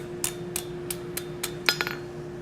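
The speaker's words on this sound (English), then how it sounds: "So we're going to go ahead and hammer that a little bit better." A blacksmith forging a plant hanger hammers a hot steel bar, giving a steady series of sharp, ringing metallic strikes about every third of a second and ending in a quick cluster of lighter taps, with a constant hum underneath.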